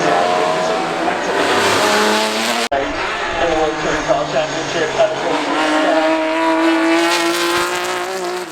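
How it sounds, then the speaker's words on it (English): Australian V8 Supercar, one of the last of the V8s, racing up the Goodwood Festival of Speed hillclimb, its engine roaring loud and close with a brief cut before the revs climb again, tires chirping and crowd noise beneath. "this is the sort of dying breed in the end of Aussie supercars, the last of the V8s"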